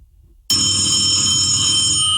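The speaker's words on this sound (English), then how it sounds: "the landline on the wall is ringing" A landline telephone mounted on the wall suddenly starts ringing after near silence, a loud, continuous electronic bell trill that fills the room without any voices.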